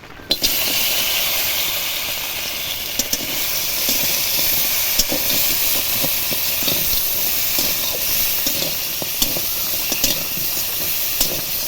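Crab pieces coated in salt and turmeric frying in hot oil, a loud continuous sizzle and steamy hiss with scattered small pops and crackles throughout, close, no voices.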